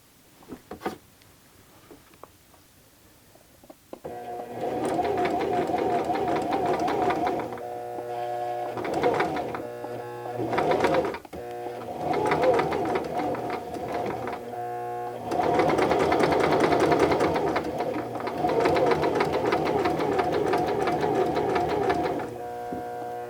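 A sewing machine stitches fabric along a seam toward the corner, its steady motor hum and rapid needle chatter running in bursts with brief pauses between, close and clear with no talk.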